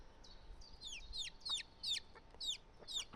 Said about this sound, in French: les petits poulets, je suis contente de les voir